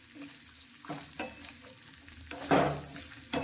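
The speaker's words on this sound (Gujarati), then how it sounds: "આ રીતે કોપરાના ટુકડાને ઘીમાં સાતળવાથી" Raw coconut pieces sauté in a couple of spoonfuls of hot ghee, giving a soft, close sizzle with stirring scrapes and a louder burst of frying near the end.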